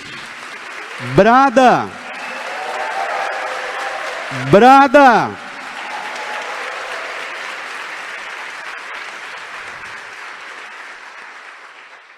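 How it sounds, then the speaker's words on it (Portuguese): A congregation applauds during a Lenten Sunday Mass homily in church. Steady clapping runs throughout, and two loud shouted voice bursts rise over it near the start. "Dê uma salva de palmas para ele, minha gente."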